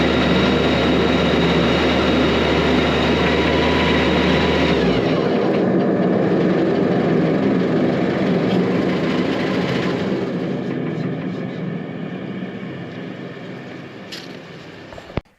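A drain jetter runs loud and continuous while unblocking a drain line, a dense roaring drone with a low engine hum that cuts out partway through, leaving the high-pressure rush to fade gradually toward the end.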